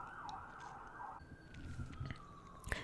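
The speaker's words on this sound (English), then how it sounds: "Darn sirens." A siren wails outdoors at moderate distance, a steady rising and falling tone that holds for about a second, then shifts to a flatter sustained pitch that fades under faint street noise and a few soft knocks.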